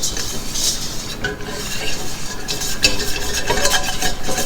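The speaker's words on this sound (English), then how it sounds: "Give that a good whisk, getting off any that is stuck to the base of your pot" A whisk scraping and stirring flour into melted butter in a pot, continuous metallic scratching and clinking against the base, fairly close and loud with no talking.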